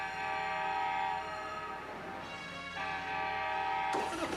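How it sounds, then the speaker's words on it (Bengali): A cartoon train rolls past with a sustained, tonal horn blaring continuously, then a sharper burst near the end. "train train ওয়াপ ওয়াপ"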